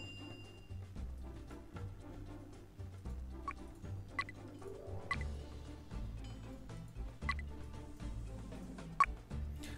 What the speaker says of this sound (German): Voll die Gänse am Start.